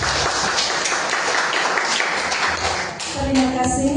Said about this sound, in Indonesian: Mari kita beri tepuk tangan Bapak Ibu.